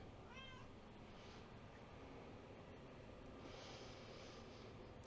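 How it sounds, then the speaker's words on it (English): A house cat gives a short, faint meow early on, far from the mic, in a quiet room during a calm stretching session, with soft background hiss and no talking. "Pet the cat."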